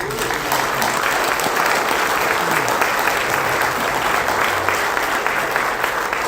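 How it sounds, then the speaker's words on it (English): An audience at a space and missile defense conference breaks into steady, sustained applause, with dense clapping that holds at an even level throughout. "please give a warm thank you and round of applause"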